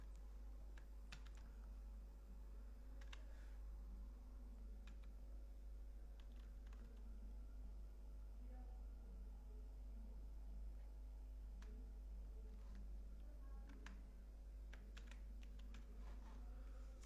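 Sparse, faint keyboard taps during text entry on a computer, scattered irregular clicks over a steady low hum and room noise.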